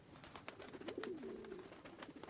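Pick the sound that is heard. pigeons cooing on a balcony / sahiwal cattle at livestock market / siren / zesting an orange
pigeons cooing on a balcony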